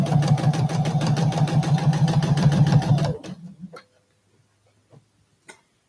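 A sewing machine stitches quilt binding in a steady, fast mechanical whir for about three seconds, then stops, leaving only a few faint clicks and handling taps in the quiet.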